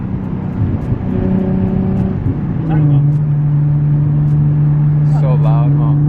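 A tuned, E85-fuelled Nissan 370Z engine drones loudly and steadily, rising to a deeper, stronger rumble partway through, with people talking over it.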